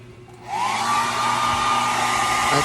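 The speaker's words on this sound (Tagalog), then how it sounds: "nag-blower ako para matuyo man lang yung buhok ko" A hair dryer switches on and blows steadily and loudly at close range to dry damp, freshly washed hair, a constant whooshing roar with a rising motor whine.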